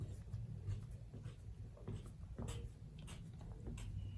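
Pen or pencil drawing a bust circle on a corset pattern, a soft close scratching and scraping with a few sharper strokes over a low background hum.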